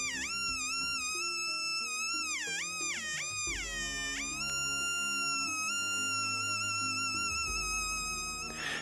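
An electronic tone circuit with a light-dependent resistor gives a steady, buzzy synthetic tone whose pitch swoops and wobbles as a hand blocks the light, then settles into a sustained drone.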